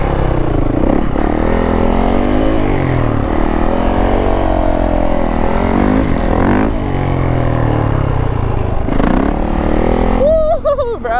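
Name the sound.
Yamaha YZ450F dirt bike engine while riding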